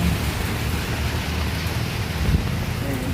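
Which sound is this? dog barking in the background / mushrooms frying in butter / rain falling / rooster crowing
rain falling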